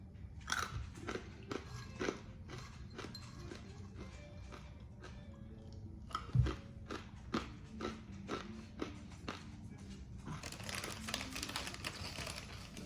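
Crunchy chewing and biting of League of Fire Chili Heads of the Corn, a spicy corn snack, close up and alone, with a steady run of sharp crunches that thickens into denser crackling near the end.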